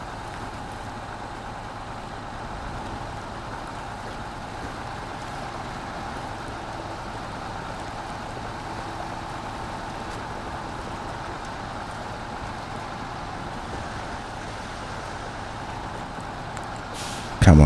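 A heavy off-road truck in Snowrunner, carrying short logs and metal rolls, labours along a soft uphill route, its engine holding a steady, droning rumble with little change until a sudden loud burst at the very end.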